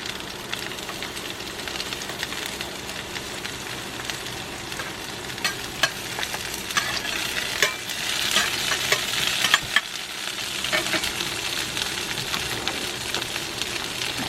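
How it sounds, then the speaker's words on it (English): Eggs being broken up and stirred into a scramble in a cast iron pan on an induction burner in a van, with a steady close sizzle and scraping stirs throughout, and a few sharper clicks of utensil on iron. "I'm just gonna break these up. So I'm making like a little scramble."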